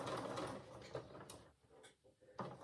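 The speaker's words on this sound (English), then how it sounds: "all we're going to do, you don't need to back stitch, and we're just going to stitch around" A sewing machine stitches around a dress seam at a quarter-inch allowance, a faint, steady mechanical whir that eases off briefly midway before resuming.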